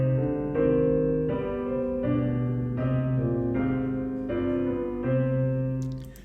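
Chord progression played on a sustained organ-like keyboard tone, seven block chords in an even, slow rhythm, one of which has soprano and bass moving into hidden fifths; clean and alone with no talking.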